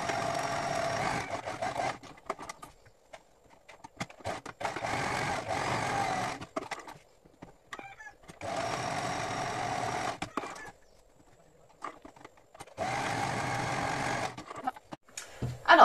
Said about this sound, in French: je vais passer un point zigzag sur mes angles